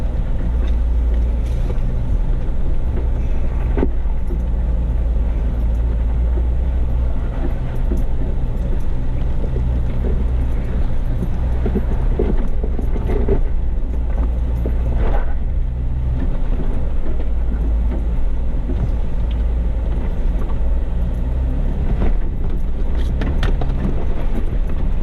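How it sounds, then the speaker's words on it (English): A Jeep crawls slowly up concrete and dirt off-road terrain in the badlands, its engine a constant low rumble close by with occasional bumps and rattles over the ground. "But the Jeep just crawls right up it"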